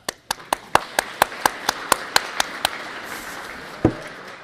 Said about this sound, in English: I'd like to give a round of applause for that